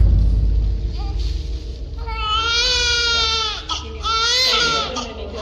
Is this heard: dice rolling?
no